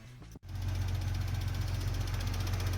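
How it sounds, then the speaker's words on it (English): A BMW E36 engine idling with its fuel injectors ticking, a steady close mechanical chatter over a low hum that starts after a brief dropout and runs evenly to the end. "The ticking noise is the injectors."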